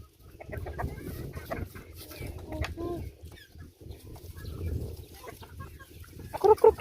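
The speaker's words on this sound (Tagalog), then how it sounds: "Ang manok. Yung ibang manok." Chickens clucking softly in scattered bursts over a low background, with a sharper squawk near the end, in a coop.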